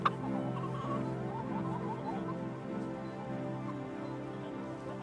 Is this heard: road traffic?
no